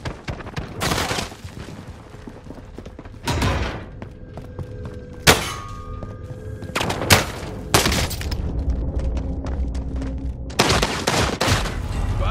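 Gunfire in the video game Warzone on Rebirth Island at night: repeated bursts of automatic fire and sharp single shots, loud and close, with thuds between them.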